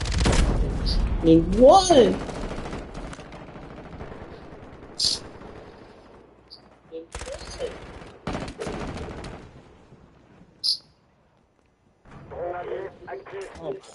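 Bursts of gunfire and a grenade blast in a Call of Duty beta match, sharp shots scattered over the clip between pauses, with people talking and reacting over the action.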